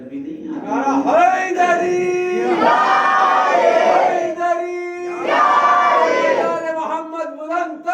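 A large crowd chants a religious slogan in unison at a mourning gathering for Fatima Zehra at a madrasa in Lucknow: loud, drawn-out collective shouts repeated in two or three surges, with a few voices trailing off between them.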